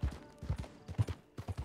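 Hooves clip-clop from a horse in a video game, sounding in quick clusters of close, fairly loud beats with short gaps between groups.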